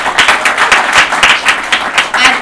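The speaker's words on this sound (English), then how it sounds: "Give yourselves a round of applause." Audience at a workers' rights convening breaking into applause, a brief burst of rhythmic clapping from a crowd, fairly loud and close.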